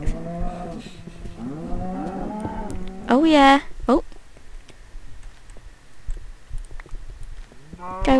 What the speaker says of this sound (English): There's so many cows down there